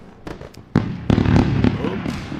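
Firework sound effect: several sharp pops and crackling bursts, with a louder sustained crackle through the middle, heard over someone talking.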